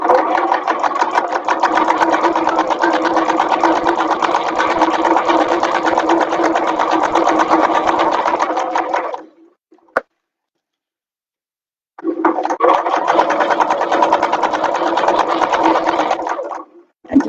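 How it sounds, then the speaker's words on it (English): An electric sewing machine stitches steadily around a bag with a quarter-inch seam, a fast even whirring run that stops for a couple of seconds, then resumes for another stretch. "So we're just going to go to the machine now and sew round."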